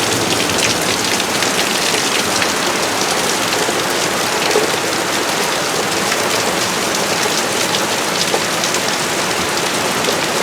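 Heavy rain pours down during a sudden Dallas storm in tornado season, a dense, loud and unbroken hiss of water drumming on surfaces.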